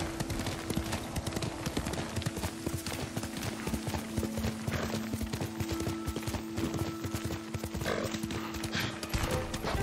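Steady clip-clop of horse hooves trotting throughout in the video game Ghost of Tsushima, with a horse neighing briefly, set against a constant electronic game-like hum.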